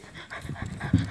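A dog pants rapidly and shuffles around a room indoors, quick close breaths with a brief louder thump near the end.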